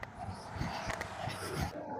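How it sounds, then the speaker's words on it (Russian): A dog barks and yelps on an evening street, a few short, fairly close calls over faint street ambience. "Вот собачка какая."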